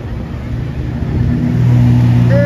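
A Lamborghini Huracán Tecnica on a Monaco street, its engine note building as it passes close by in a loud, rising drone over steady traffic background.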